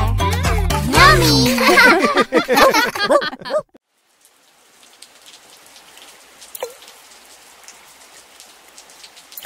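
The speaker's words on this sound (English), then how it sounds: "Rain, rain, go away. Come again on another day." Rain pours steadily in a children's song, a soft continuous patter that follows a burst of sung melody and runs alone to the end, with a few sharper drops standing out.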